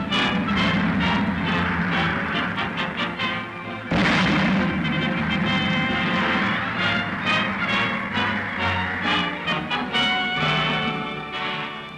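Bombing of Orsogna, Italy, in 1943 during the Second World War, a dense barrage of heavy booming blasts and rapid artillery fire, loud and continuous, with one especially large explosion partway through.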